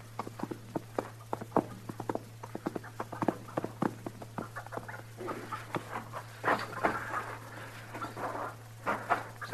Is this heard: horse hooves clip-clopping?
yes